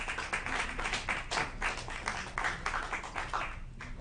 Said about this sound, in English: we do ask that you hold the applause